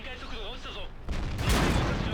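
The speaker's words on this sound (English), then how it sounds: "And now we're getting shot in the back." Tank cannon fire in a tank combat video game striking from behind, heavy booming impacts arriving after a voice, loud and close.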